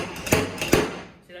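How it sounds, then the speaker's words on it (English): A stud puller used to pop a dent out of the body of a 1979 Monte Carlo lowrider: two sharp metallic knocks about half a second apart, close and loud, then quiet. "take the stud puller, tighten it on there. Let's pop."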